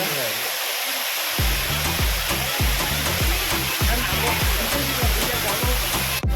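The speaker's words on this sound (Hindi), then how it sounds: "हो बहुत अच्छा है, वाटरफॉल है।" Panari Waterfall roars as a loud, continuous broadband rush of falling water, with a steady rhythm of low thumps beneath it.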